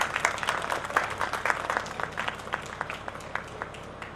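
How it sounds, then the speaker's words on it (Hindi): Audience applause welcoming guests at the opening ceremony of a kavi sammelan in Gohana, a crowd of scattered, individually distinct claps going on steadily at moderate volume, somewhat distant. "तालियां बजा सकते हैं।"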